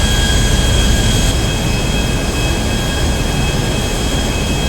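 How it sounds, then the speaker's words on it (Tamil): Steady, loud roar of an airplane engine in the video game GTA 5, a continuous drone with a high whine running unbroken throughout, no talking. "ஃபர்ஸ்ட் டைம் ஃப்ளைட் ஓட்டுறேன்,"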